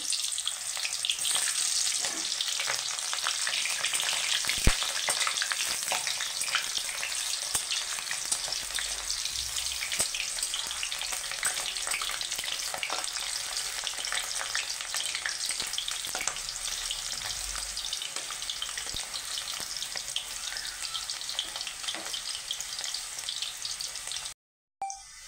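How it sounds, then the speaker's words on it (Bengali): Onion rings sizzle and crackle in hot oil for a village-style chicken dish, a steady, dense frying hiss that holds evenly close by with no talking. "যে আমার তেলটা গরম হয়ে এসছে, আমি পেঁয়াজ রিং রিং করে পেঁয়াজ কেটেছিলাম, পেঁয়াজগুলো একটু ভেজে নেবো।"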